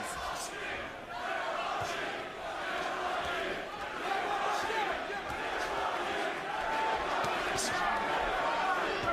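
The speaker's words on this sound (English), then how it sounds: "Crowd chanting Triple G, Triple G." A boxing arena crowd roars and chants "Triple G" for Gennady Golovkin during his fight with Curtis Stevenson, a loud, continuous mass of voices rising and falling.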